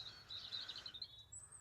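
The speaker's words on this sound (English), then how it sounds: "robins singing inwardly" A robin sings quietly in cold weather, a soft inward warble of thin, high twittering notes that ends on a brief whistled phrase, faint and somewhat distant against a low background hum.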